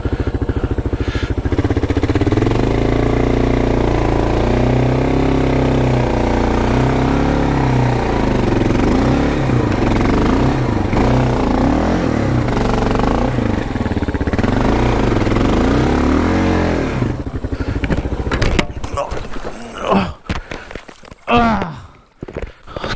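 A Kawasaki KLR motorcycle engine runs loud and close during hard off-road adventure riding in Australia, with a steady mid-pitched drone that shifts and surges for about eighteen seconds before cutting out into a few scattered knocks.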